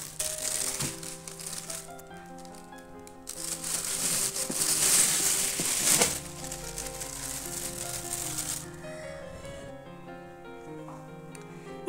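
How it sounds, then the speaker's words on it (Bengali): Packaging of a Topper non-stick frying pan being unboxed, with crinkling, crushing plastic and cardboard rustles that swell to a dense loud crackle midway, then ease off. No talk. "প্রথমে আমরা ফ্রাই প্যানটি আনবক্সিং করে নেব"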